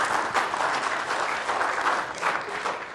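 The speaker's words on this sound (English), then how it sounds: "Did that one deserve applause too?" Audience applause at a tech conference keynote on an encoder product: steady, dense clapping from a sizable crowd, sustained evenly for about three seconds with no voices over it.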